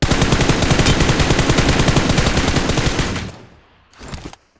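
An M416 assault rifle fires in the mobile shooter BGMI: a loud, sustained automatic burst for about three seconds, then a short pause and one brief final burst.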